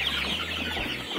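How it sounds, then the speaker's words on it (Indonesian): Large chickens raised on organic feed cluck softly in a brief, quiet burst, with a low steady hum underneath. "Ini ayamnya gede-gede pokoknya teman-teman, bukan kaleng-kaleng."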